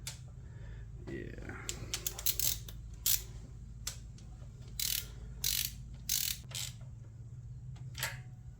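Ratcheting clicks from a torque wrench tightening bolts on a Toyota 4A engine in a Tercel wagon, heard as several short bursts of clicking over a steady low hum, close and moderately loud.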